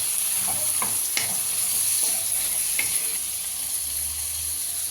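Eggplant and capsicum fry and sizzle in oil in a pan for a Kannada-style vangibath gojju, a steady close crackle with brief stirring clatters over it and no talk.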